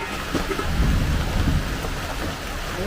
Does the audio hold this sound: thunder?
yes